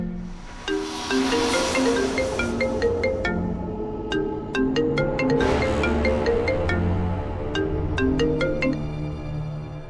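A phone ringing unanswered, a repeated melodic ringtone of bright electronic notes and chords playing steadily and fairly loud for about ten seconds, with no talking.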